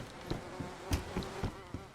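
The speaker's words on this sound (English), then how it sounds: "it looks like all of them have bees in them now" Bees buzzing in beehives in the video game DayZ: a steady insect drone with several short, sharper bursts standing out at uneven intervals over about two seconds, no voices.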